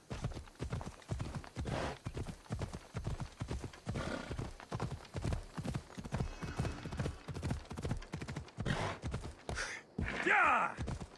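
Hooves clip-clop in a steady galloping rhythm from a horse ridden in Assassin's Creed Odyssey, close and continuous, with a horse whinny near the end.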